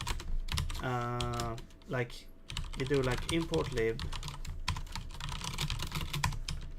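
Rapid clicking keystrokes on a computer keyboard run almost continuously, close and crisp, while someone talks over the typing.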